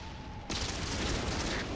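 A tank cannon fires in the video game World of Tanks, a single sudden loud blast that rings out and decays into a dense, rumbling tail.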